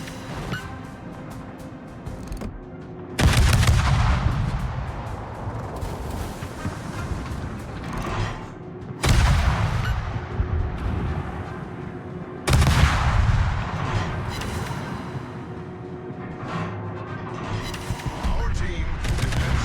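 Warship guns firing shots in World of Warships naval combat, three heavy booming salvos spaced several seconds apart, each with a long rumbling decay over a low engine-like drone.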